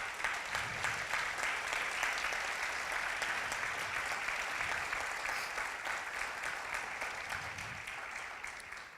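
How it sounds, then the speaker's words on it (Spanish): A church congregation applauds loudly and steadily for about nine seconds, a dense wash of many hands clapping that fades slightly toward the end, with no talk over it. "Vamos a recibir la palabra de nuestro Dios con un fuerte aplauso."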